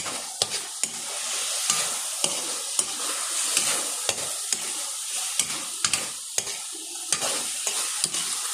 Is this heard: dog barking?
no